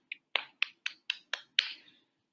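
Hands patting the body directly on bare skin during a stress-relief tapping exercise, seven crisp separate pats in a fairly even rhythm, close and fairly quiet, with no talking.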